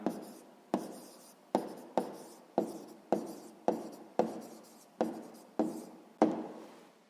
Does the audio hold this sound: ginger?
no